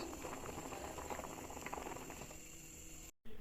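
Greens and chilies simmer in a pot of water with a soft, continuous bubbling that is quiet and close, ending in a brief cut.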